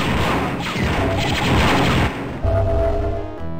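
Rapid, loud blaster rifle fire from the Star Wars: Dark Forces video game, a dense continuous barrage of shots with a brief break near the end, with no talking.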